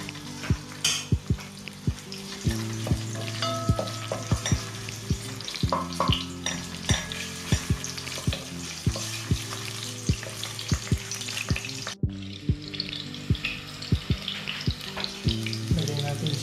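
Ginger sizzles and fries in hot cooking oil in a pan, a steady close crackle with repeated sharp taps and stirring knocks, continuing for the whole stretch without talk.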